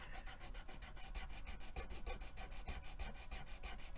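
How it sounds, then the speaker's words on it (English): A sand eraser scrubs quickly back and forth on a paper birthday card, a fast, even, gritty rasp repeating about five strokes per second, close and quiet, with no talking. "Good thing I have a mono sand eraser."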